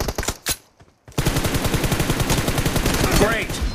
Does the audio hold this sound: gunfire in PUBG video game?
yes